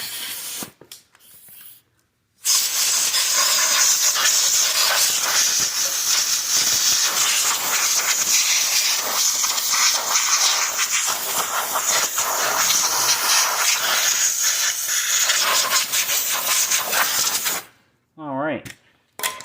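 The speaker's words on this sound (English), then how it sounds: "get my blow chuck and blow those pine needles out of there" A compressed-air blow gun blasts pine needles out of an engine's spark-plug hole and cylinder: a few short spurts, then a loud, steady, close rushing hiss lasting about fifteen seconds before cutting off.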